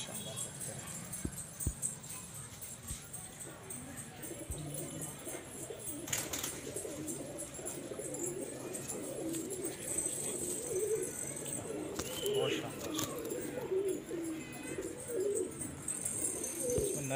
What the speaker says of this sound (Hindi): अच्छे देवबंदी कबूतर सबसे पहले दिखा रहे हैं आपको